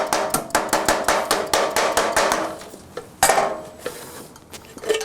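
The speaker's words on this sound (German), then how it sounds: "Wird das Blech beim Hämmern verdichtet, spricht man dabei von Bördeln." Sheet metal for a roof gutter is hammered in a fast, steady run of bright, ringing blows, about twenty strikes, then a pause and a few heavier, scattered hits, close and loud with no talk.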